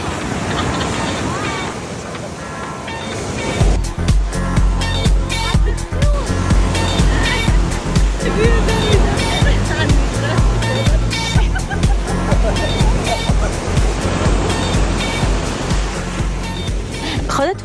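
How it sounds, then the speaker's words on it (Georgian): Huge sea waves crash onto a beach in Thailand in January, a loud, continuous roar of surf and churning water with rushing bursts throughout and no pause. "იანვრის თვეში ზოგადად ზღვასთან ყველაზე გასართობი აქტივობა არის ტალღებთან ჭიდაობა, იმიტომ რომ უზარმაზარი ტალღებია"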